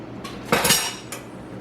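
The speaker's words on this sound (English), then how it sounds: "Stirring, not letting it stick or burn to the bottom." Milk heating toward a boil in a pot on the stove is stirred with a metal utensil, giving a few brief scrapes and clinks against the pot over faint background hum.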